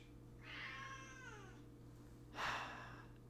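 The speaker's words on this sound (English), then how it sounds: "Why you gotta meow so much?" A pet cat meows twice at close range, first a drawn-out falling cry and then a shorter, harsher call, over a steady low hum.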